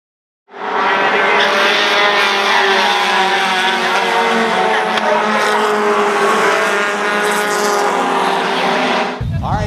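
Race cars at full speed on the New Hampshire Motor Speedway oval, a loud, sustained engine roar that holds steady from start to finish before cutting off abruptly.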